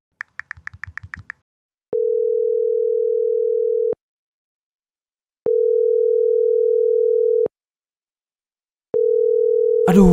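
A phone call goes unanswered: a few quick dialing beeps, then three long, even ringback tones separated by silent gaps, clean and steady, with a brief clatter at the very end.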